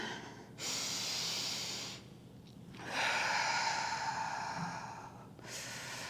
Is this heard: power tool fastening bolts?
no